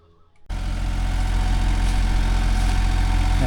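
An excavator engine in Nong Khai, Thailand, working on the repair of another excavator, starts after a short quiet moment and then idles loud, close and steady, with a deep, even rumble.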